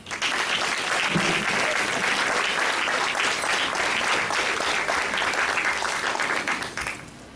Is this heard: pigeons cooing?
no